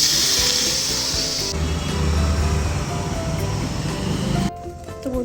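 Chopped tomato and water go into a pan of sizzling prawn masala. A bright hiss suddenly drops to a softer bubbling fry, then quiets further near the end, with no talk.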